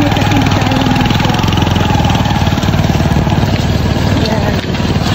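A tricycle motorcycle engine runs close by, loud and steady with a rapid knocking putter throughout, continuous for the whole stretch.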